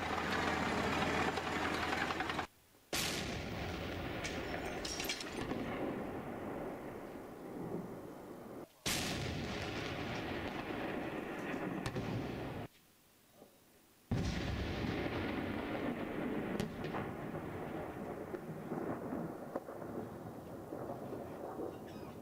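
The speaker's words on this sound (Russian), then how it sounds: "И ночью по выявленным целям отработал танк." A tank fires on militant positions at night in Daraya, Syria, producing three heavy booming blasts several seconds apart, each followed by a long rolling rumble and echo, with a steady engine-like drone between shots.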